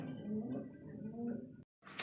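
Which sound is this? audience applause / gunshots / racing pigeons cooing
racing pigeons cooing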